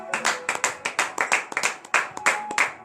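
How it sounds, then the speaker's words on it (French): A congregation claps in a steady rhythm during morning prayer, with about a dozen sharp, evenly spaced beats over a few seconds, close and fairly loud. "Donnez de vives acclamations à notre Seigneur Jésus."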